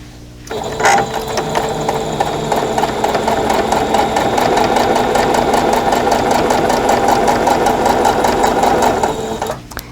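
Loud, close sewing machine stitching along a drawn line on matched raw edges of fabric for a quilt block, whirring and clattering continuously for about nine seconds between a quiet start and stop.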